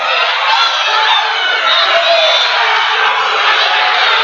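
A crowd at a high school wrestling match roars and cheers steadily throughout, a loud dense wall of voices close around.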